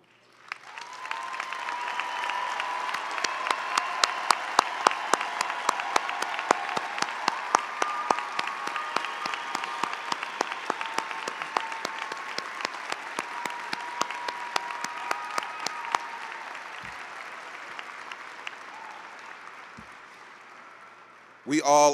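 Sustained applause at a December university commencement ceremony honoring veterans, a large crowd clapping steadily in a big hall, swelling early then slowly fading over about twenty seconds with sharp individual claps standing out.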